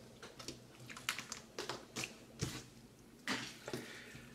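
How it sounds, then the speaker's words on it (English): A utility blade slicing through the rubbery outer jacket of an XLR cable, heard as a run of close, sharp cuts and scraping snicks in irregular bursts, with soft crinkly handling noise between them. "recess the blade tip between your fingers, and then cut down the outer jacket"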